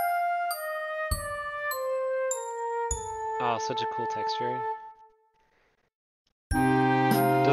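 Orchestral bells ring out in a descending run of clear, struck tones with long sustain, joined by shimmering tremolo texture, then a pause before a fuller chord enters; a voice speaks briefly over the music.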